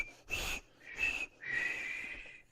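A person whistles three short sustained notes with brief gaps between them, the last held longest, fairly close and clear with no talking.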